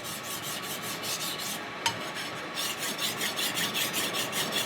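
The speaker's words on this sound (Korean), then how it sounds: "칼이 잘 들어야 모든 음식이 제대로 놓을 수 있으니까 남한테 안 맡기고 제가 직접 갈고 있습니다" A kitchen knife is honed by hand before preparing pufferfish, giving repeated rasping strokes in a steady back-and-forth rhythm, close and fairly quiet, with a brief pause and a small click midway.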